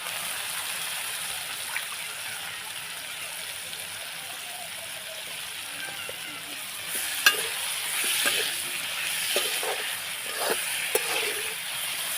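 Raw banana pieces sizzle steadily in a pan with salt and turmeric, a soft continuous frying hiss with occasional scraping stirs and light clicks later on, no voices.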